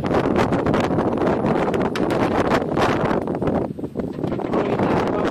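Strong wind blowing outdoors, a continuous loud rushing buffet against the microphone with gusty surges and a brief lull near the end.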